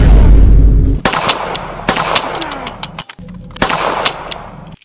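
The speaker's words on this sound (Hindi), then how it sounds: "विवेक जी, गोली चलाइए।" Several sharp gunshots crack out one after another at irregular intervals, loud and close, with a heavy rumbling boom at the start.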